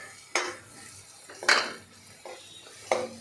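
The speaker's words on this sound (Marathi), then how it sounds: "आता हे सगळं आपण मिक्स करून घेऊ परतून घेऊ पटकन असं हे परतलं गेलेलं आहे" Spinach and potato mixture stirred and sautéed in a pan for a Maharashtrian palak batata bhaji, with three distinct metal spoon scrapes and clinks against the pan at a steady pace, each followed by a faint sizzle.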